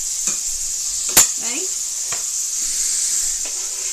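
Scallions dropped into a hot frying pan while cooking a meal kit, giving a steady sizzle with a sharp clatter near the start and a few soft stirring scrapes; a voice speaks briefly over it.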